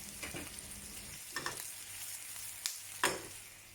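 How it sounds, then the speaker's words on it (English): Pork belly sears and sizzles in a pan, a soft steady frying hiss broken by several sharper crackles and stirring or flipping clatters, fairly quiet and with no voices. "Flip the pork over so that it is properly seared and colored."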